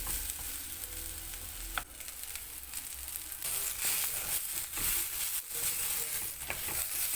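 Raw figs fry in a pan with a steady, dense sizzle that holds throughout, broken by occasional scrapes and clicks from stirring; no one speaks.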